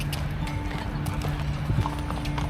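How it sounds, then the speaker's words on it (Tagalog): Horse hooves clip-clop on pavement in Baguio, a steady run of hoof strikes heard over constant outdoor background noise, with a brief whinny. "Nahuli yung kabayo."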